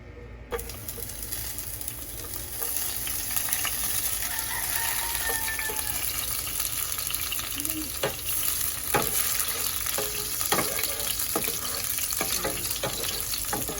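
Oil heats and fries in a pan before onions, garlic and tomatoes go in for pork rib adobo, with a constant loud sizzle and scattered sharp pops and clinks throughout.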